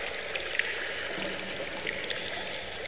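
Water dripping in a cave in Dying Light, scattered soft drips and trickling over a damp, hissing cave ambience, steady and moderately quiet.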